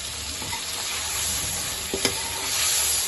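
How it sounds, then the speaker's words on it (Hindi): Meat with tomatoes and green chilies sizzles in a cooking pot while being stirred, a close, continuous frying hiss with a few scraping spoon strokes and no talk. "इसकी अच्छी तरह बुनाई कर रहे हैं।"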